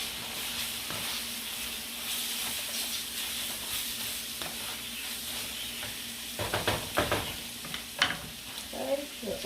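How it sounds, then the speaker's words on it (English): Cheesesteak meat sizzles in a hot pan with a steady hissing fry, then a run of brisk scraping stir strokes and clacks breaks out near the end. "Stir that meat"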